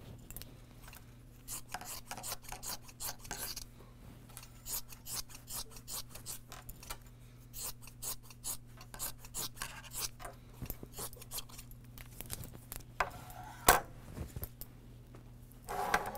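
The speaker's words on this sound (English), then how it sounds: "taking my fabric scissors, I'm just gonna go ahead and cut around the legs and the arms." Fabric scissors snip around the legs and arms of a sewn stuffed toy, a steady run of close, crisp cutting strokes with a faint steady hum behind, no one talking.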